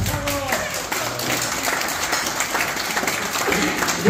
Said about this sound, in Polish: I wielkie, wielkie brawa dla nich